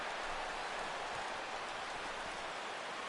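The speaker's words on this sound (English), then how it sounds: "The rain, as we've mentioned, coming down fairly steadily here at game time." Steady rain falls over a ballpark in the baseball video game MLB The Show 16, a dense, even hiss of drops that holds unchanged throughout with no voices.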